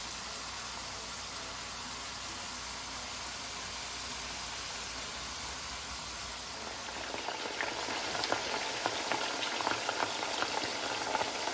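Oil bubbles and hisses steadily as potato chips fry nearby in a skillet, with sharper crackles and pops growing more frequent toward the end.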